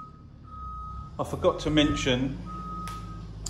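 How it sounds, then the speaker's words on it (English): Repeated reversing beeps from a forklift sound steadily outdoors, partly under a man's nearby speech, continuing faintly after he stops talking. "Excuse the noise, forklift."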